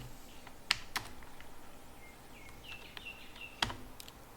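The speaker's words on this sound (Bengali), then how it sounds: "এটা আমি জাস্ট লিখছি ওয়েলকাম" Quiet keystrokes on a computer keyboard, a few sparse clicks with pauses between them, alongside a faint chirping sound, and no talking.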